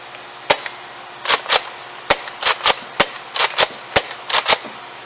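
A Nerf Rival Kronos blaster fires foam balls in a series of sharp, loud pops, some single and some in quick pairs, close by with a faint background hum.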